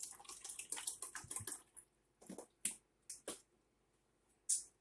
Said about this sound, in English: I'm going to add some water to my coffee maker.